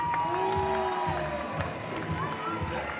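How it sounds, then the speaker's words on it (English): A crowd at an under-10 youth cricket final between the Vikings and Dragons cheers for the Vikings, a continuous mix of voices, shouts and scattered clapping heard from nearby with some talk mixed in. "If you are a Vikings supporter, can we hear a cheer for the Vikings boys"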